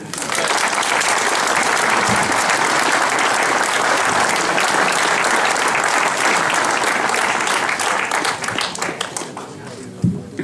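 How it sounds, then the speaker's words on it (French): A large audience at a mayor's New Year address applauds loudly and continuously, clapping steadily for several seconds before it thins out and ends in a few final claps. "Ça mérite vos applaudissements"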